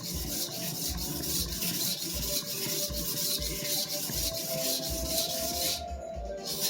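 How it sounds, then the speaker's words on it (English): A freshly restored sujihiki knife grinds on a sharpening stone during finish sharpening, with rhythmic back-and-forth rasping strokes repeating steadily at close range, no speech. "thanks to all this grinding I'm doing to get the burr to really refine this apex"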